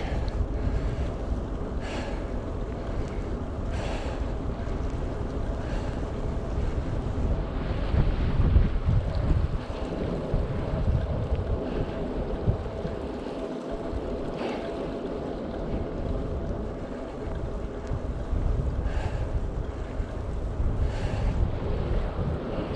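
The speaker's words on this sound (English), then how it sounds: "that's a raw wind" Raw wind batters the microphone in steady, loud rumbling gusts as an e-bike rides up a mountain, probably a Cube Hybrid or Carrera Vulcan Mk 1. The roar is broadband and continuous throughout, with no talking.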